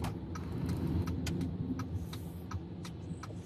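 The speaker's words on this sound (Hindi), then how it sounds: "एक मिनट, गाड़ी को थोड़ा सा साइड पे लगाते हैं" A car on a road in Amritsar, India slows and pulls over to the roadside, its engine a steady low rumble heard from inside the cabin, with several sharp ticks or clicks scattered throughout.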